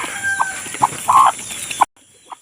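Backyard hens, Texas-line chickens, clucking in short bursts close by, several brief calls with one longer cackle, then a near-silent pause and a final faint cluck.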